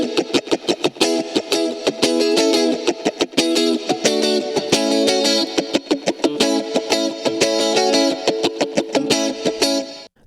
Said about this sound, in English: we got the guitar tracks, which they're actually 2 takes, one panned hard left, one panned hard right, drenched in reverb, as well as there's a chorus effect on there